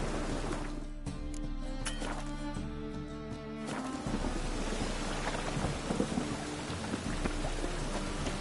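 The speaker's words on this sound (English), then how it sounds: "A storm, damn it." A video game thunderstorm sets off a deep rumble of thunder over steady rain, which then turns to a heavier, constant downpour that fills the rest of the scene.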